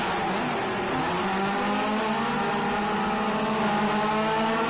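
Race cars at Snetterton launch off the start line together, a dense and loud wall of engines revving hard and accelerating without pause.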